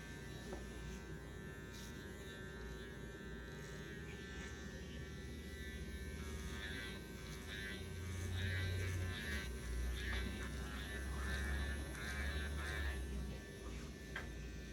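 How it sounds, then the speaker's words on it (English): A hair trimmer buzzes steadily close by while cutting a fade in a barbershop, humming continuously and swelling slightly louder midway, with faint voices in the background. "when you cut down like that with the trimmer"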